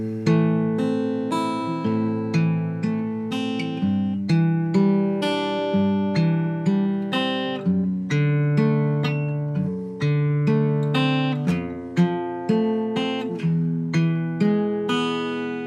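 Finger-picked guitar playing the opening line of a song, a steady arpeggiated pattern of clear plucked notes shifting through chords, played alone and close.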